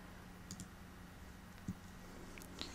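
A computer mouse gives a few faint, sharp clicks, spaced irregularly over a quiet background hiss.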